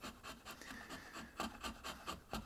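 Rhythmic rasping strokes of hand-working a dark oak wood handle, repeated scraping passes about every third of a second, faint and close with no talking.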